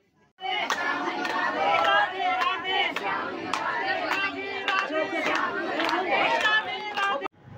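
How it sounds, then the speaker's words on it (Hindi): Crowd of devotees at Nidhivan temple in Vrindavan, a dense murmur of many voices with chanting and calls, loud and continuous close around the listener before cutting off abruptly. "आप देख सकते हो कि निधिवन के इस मंदिर में कितनी भीड़ लगी हुई है श्रद्धालुओं की।"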